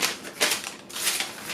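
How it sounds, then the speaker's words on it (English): A notcher clipping notches into a paper sewing pattern piece for a sleeve, a quick run of crisp, papery snips and clicks heard up close with no talk. "use a notcher to put the notches in the pattern piece"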